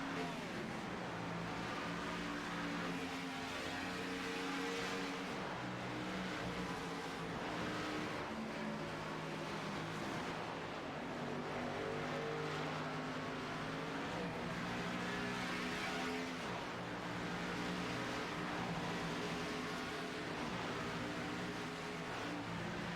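Race cars at Rockingham in a sim racing game, with a steady, continuous engine drone and shifting pitch that sounds like several cars running together at full speed, with no break.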